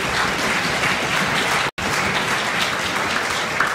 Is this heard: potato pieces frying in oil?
no